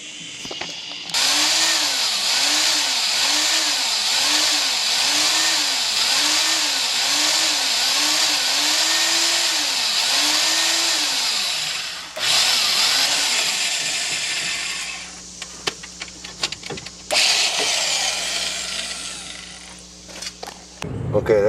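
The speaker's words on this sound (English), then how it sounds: "that's representing a good 30 minutes worth of drilling" A power drill whines loudly and steadily, pitch wobbling as it drills out metal rivets on a 2000 Dodge 1500 ball joint, then stops and restarts in shorter bursts.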